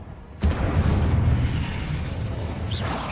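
An Incendio spell cast in the video game Hogwarts Legacy erupts as a sudden, loud whoosh-boom. A dense, roaring rush of fire follows and holds steady, with a short swish near the end.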